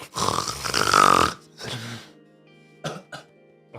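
A voice imitates a person's snoring with a long, rasping, throaty snore, followed by a couple of shorter snorting breaths after a pause.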